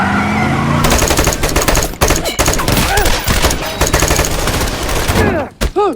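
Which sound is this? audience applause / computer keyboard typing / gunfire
gunfire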